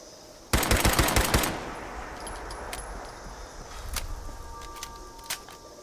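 Explosive pipe rifle firing rapidly in Fallout 76, a Berserker legendary chambered in .38: a loud burst of quick-fire shots lasting about a second, followed by scattered fainter clicks and impacts.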